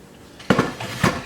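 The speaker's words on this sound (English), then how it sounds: "we're getting the last of our juices out of the crock pot insert" Two clattering knocks of a ceramic slow cooker crock pot insert being handled while the last of the pot roast juices are poured out, sharp and close, with no talking.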